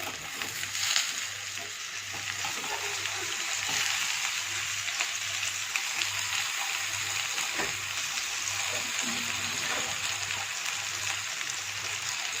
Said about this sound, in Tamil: ஸோ பாருங்க, காய் நான் வதக்கிட்டு இருக்கேன்.